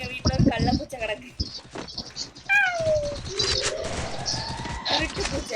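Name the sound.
cat meowing in the house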